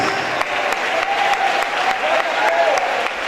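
Loud crowd applause fills a large gospel event in Belém, a dense, continuous roar of many hands clapping with faint tonal music threading through.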